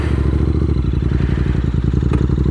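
A Royal Enfield Interceptor 650 motorcycle engine thrums loud and close while being ridden through the gears, a steady pulsing twin-cylinder beat with some mechanical clatter and no talk.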